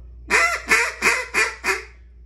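Five short, evenly spaced honking blasts from a hand-blown duck call, kept deliberately quiet and restrained, each note rising then breaking, with no other sound between them.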